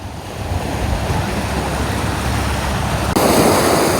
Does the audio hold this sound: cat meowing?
no